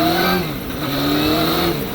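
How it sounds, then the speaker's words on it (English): A Honda Hornet 900 (CB900) motorcycle engine revs nearby, a loud, continuous throaty drone with rising and falling pitch as the throttle opens and eases over two seconds. "The engine to this, don't rev very high really"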